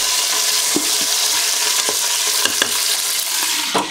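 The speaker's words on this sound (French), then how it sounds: "Et je vais faire dorer mon bœuf." Beef browns in olive oil inside a Cookeo multicooker pot on its browning setting, giving a loud, dense sizzle close up, broken by scattered scrapes and taps of the spatula against the pot.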